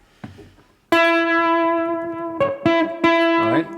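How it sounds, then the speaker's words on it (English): A fuzz-distorted electric guitar played with an EBow rings out in sustained buzzy notes, a few picked and held, then shifted, loud and close with no talking. "Actually, I'm going to put on the fuzz here."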